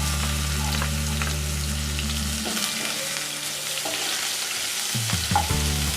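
Chopped onion and a dry red chili sizzle in hot oil in a pan, a bright, steady fry up close with light stirring, under a low hum that cuts out partway through.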